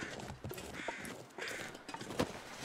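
Several crows caw in repeated harsh bursts in The Long Dark survival game, spaced calls rising over a quiet outdoor ambience, with one or two sharp footstep-like knocks near the end and no voices.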